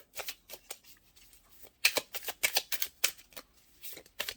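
Tarot cards are shuffled and drawn in quick, close bursts of papery flutter and snapping, with short pauses between the runs.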